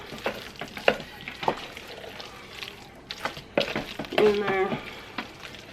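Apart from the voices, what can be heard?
stirring food frying in a pan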